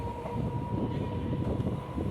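A Chennai EMU suburban electric train runs between Vandalur and Urapakkam stations near the new Kilambakkam bus terminus, giving a steady, loud rumble of wheels with a constant electrical hum and no talking.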